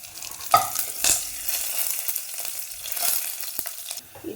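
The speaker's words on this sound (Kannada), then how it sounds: "ಬೆಳ್ಳುಳ್ಳಿ ಸ್ವಲ್ಪ ಫ್ರೈ ಆದಮೇಲೆ ಇದಕ್ಕೆ ಕರಿಬೇವು ಹಾಕ್ತಿದ್ದೇನೆ ನಾನು." Curry leaves and Byadagi chillies frying in hot oil with garlic for a green moong oggarane, giving a steady close sizzle and crackle, with a sharp pop near the start and stirring scrapes throughout, no speech.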